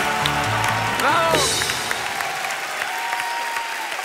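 Audience applause for a bagpipe band from the Centro Asturiano de Madrid at a televised talent show grand final, loud dense clapping throughout with a few whistles and bright tonal sweeps near the start.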